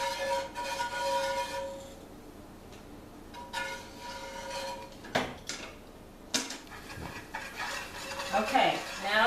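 A flour and oil roux for biscuits and gravy stirred in a pan, with repeated close scraping and clinking of a utensil against the pan and only faint, sparse voice in the background.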